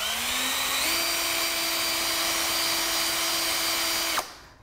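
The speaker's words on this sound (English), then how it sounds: "Now I'm going to put my countersink in. And I'm going to start at a square angle to the wood right here." A power drill fitted with a countersink bit bores into pallet wood for a smokehouse build, one loud continuous whine whose pitch rises briefly near the start, then holds steady before cutting off abruptly.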